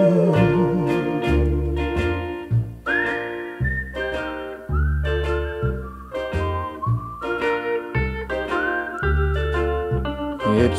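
Melodic whistling from a 1961 song, a bright whistled tune running over steady instrumental backing with a bouncing bass line, sustained and fairly loud throughout.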